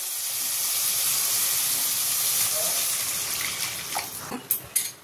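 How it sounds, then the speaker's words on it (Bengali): Fish curry broth with turmeric, salt and oil boiling in a pan: a steady, faint hissing bubble fills the clip, ending with a few sharp clinks or taps. "এই দেখো ঝোলটা ফুটছে"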